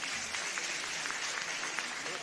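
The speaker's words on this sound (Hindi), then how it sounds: "जरा तालियां जोर से बजाइएगा।" An audience at a Chaturmas gathering in Sagar claps in dense, continuous applause that holds at an even, fairly loud level throughout, with a voice talking over it.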